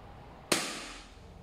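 A single sharp gunshot fired through a chronograph, one loud close crack with a short decaying tail over faint background hiss.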